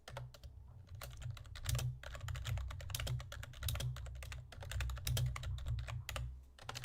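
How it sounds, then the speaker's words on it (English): Rapid, continuous typing on a computer keyboard, dense clicking keystrokes close to the microphone over a low hum. "Just typing in more tags there."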